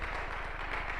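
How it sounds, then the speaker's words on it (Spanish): Church congregation applauds during a sermon, a short burst of dense, steady clapping heard from somewhat of a distance, with no clear voices over it. "Denle un fuerte aplauso al Señor"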